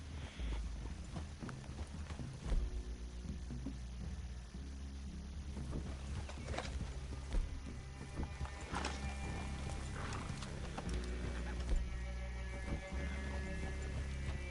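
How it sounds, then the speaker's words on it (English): Horses in Red Dead Redemption 2 clip-clop steadily over ground and give occasional whinnies, with light wind in the background and no talk. "I'd leave your horses the other side of this clearing."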